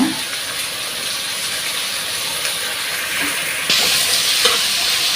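Green chili and ginger paste stirred in a hot frying pan, a steady bright sizzle and hiss throughout that swells louder near the end, with faint scraping of the stirring.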